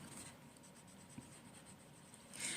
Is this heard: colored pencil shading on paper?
yes